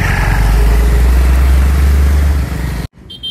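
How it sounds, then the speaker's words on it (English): Motorbikes rush past on a wide bridge in Hanoi traffic, a loud close engine roar that holds steady, then cuts off abruptly before fainter traffic returns. "Very wide, motorbikes going past us."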